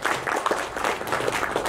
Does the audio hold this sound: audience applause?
yes